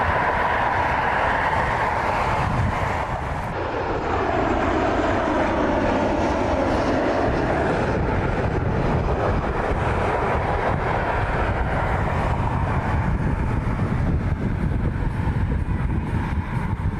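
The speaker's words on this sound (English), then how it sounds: "737 heading out for departure." A United Boeing 737 departs the runway at Cleveland Hopkins, its jet engines building into a loud, continuous roar that holds steady and fills the scene without any talk.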